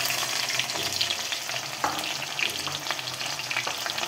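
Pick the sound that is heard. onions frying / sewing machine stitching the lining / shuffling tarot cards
onions frying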